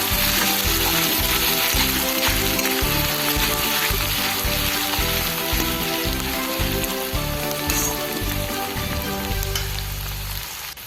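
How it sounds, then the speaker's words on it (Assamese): Garlic and ginger paste fries in a pan for a masala chicken gravy, a loud, steady, close sizzle with occasional stirring scrapes, easing slightly toward the end. "এতিয়া মই নহৰু আদা পিছা দি দিম ইয়াত. এনেকৈ আৰু কিছু সময় ভালদৰে ভাজি ল'ম."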